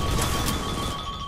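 Glass smashing in a first-person video game, a dense broadband crash with sharp bright bursts near the start, steady tones running underneath throughout.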